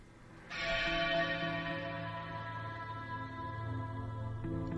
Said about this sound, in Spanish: La noche de difuntos me despertó a no sé qué hora el doble de las campanas.